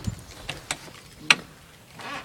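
A car jack is ratcheted up beneath a vehicle during a tire change, giving a few sharp, separate clicks spaced unevenly over a low background.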